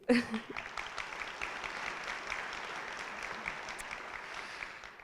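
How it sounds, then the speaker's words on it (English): Audience applause at a community foundation awards event honoring donors and volunteers, a sustained round of clapping from a crowd that stays steady for about five seconds. "So I ask a round of applause for you."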